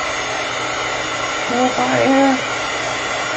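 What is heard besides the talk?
drying chicken with a blow dryer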